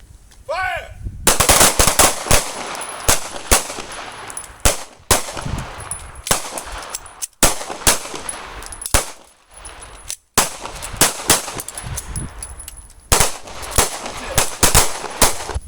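Pistols firing on an outdoor shooting range during combat accuracy drills, with rapid, overlapping loud cracks from several shooters continuing steadily with brief pauses.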